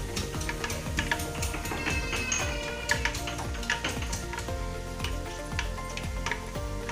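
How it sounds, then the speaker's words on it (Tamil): Fenugreek seeds frying in hot sesame oil for a village-style fish curry give a close, steady crackling sizzle with occasional clicks of stirring, and no voices. "நல்லா இப்போ பொரியிற சத்தம் கேட்குது உங்களுக்கு."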